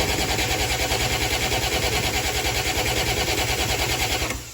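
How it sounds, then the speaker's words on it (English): A 1963 Plymouth Valiant six-cylinder with a turbo is cranked over on its new starter without firing. The churning is loud, close and fast, with an even rhythm, and it cuts off just before the end. "purging it by spinning the engine with the new starter"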